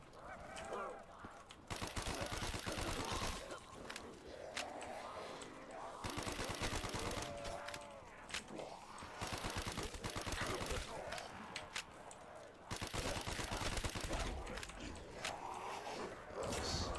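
MP40 submachine gun firing in a zombies video game, loud rapid bursts of automatic fire in repeated strings across the clip, mixed with game effects and a voice talking over it.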